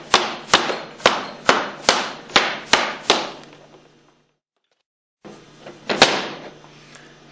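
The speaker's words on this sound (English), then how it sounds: "we'll use a rubber hammer to" A rubber hammer knocks the discharge manifold off a Hypro 2535 plunger pump in a steady series of about eight sharp blows on metal, a pause of silence, then a couple more hits close by.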